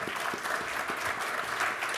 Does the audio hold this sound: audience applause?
yes